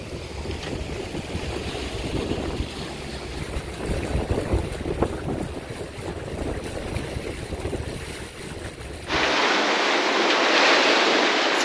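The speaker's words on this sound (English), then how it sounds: "You can see these waves just pick up the stern and toss it whichever way they happen to be going." Ocean waves slosh and surge steadily around the stern of a Leopard 45 sailing catamaran at sea, with wind buffeting the microphone and the rush growing louder and hissier toward the end.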